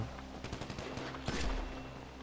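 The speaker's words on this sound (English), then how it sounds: "Dude, I love this machine gun I have." An MG machine gun fires in the GTA V video game, rapid bursts of automatic gunfire that stop briefly, then a louder, heavier burst closes the fast crackling sequence.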